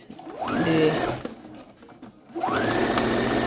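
A sewing machine stitches the neckline of a simple gown in two steady, close runs, with a brief pause between them as the fabric is turned to sew the rounded part.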